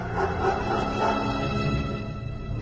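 Hunting dogs around a swamp bark and howl together in a dense, continuous chorus of overlapping voices that holds steady throughout and sounds moderately distant.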